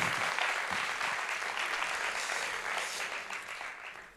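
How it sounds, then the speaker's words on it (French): An audience at a podcast festival awards ceremony in Paris bursts into applause, a full, steady clatter of many hands that starts strong and tapers gradually toward the end. "vous pouvez les applaudir"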